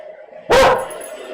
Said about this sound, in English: quit barking at the neighbor